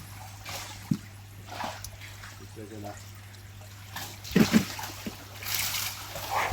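Koi fish splash as they are moved into tubs of water during a koi farm harvest, with brief splashes and trickling water under steady background hum and occasional nearby talk.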